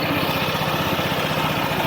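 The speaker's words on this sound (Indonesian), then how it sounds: "Ini suara dari PCX setelah dipakai di sekitar 700 km." Honda PCX 160 scooter, about 700 km old, idling nearby with a steady, even low putter and a faint mechanical whir, no voices.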